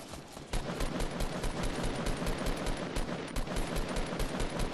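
Automatic gunfire in the video game Fortnite, a fast, unbroken burst of rapid shots, loud and close, running steadily for several seconds with no talk over it.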